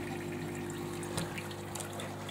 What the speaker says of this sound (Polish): Tu mi woda osmotyczna się leje do tego od rana.